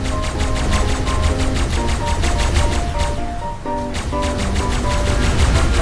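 Rapid, loud gunfire rattles in Ark Mobile, fast evenly spaced shots in long bursts with a brief lull in the middle, while a musical tone runs beneath.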